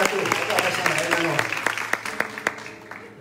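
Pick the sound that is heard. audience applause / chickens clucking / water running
audience applause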